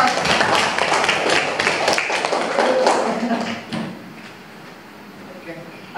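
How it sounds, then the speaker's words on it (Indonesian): Applause for group 1 after a poster presentation in a classroom setting: dense clapping from a group for about four seconds, then tapering off into quieter room noise. "Sekali lagi kita tepuk tangan untuk kelompok 1."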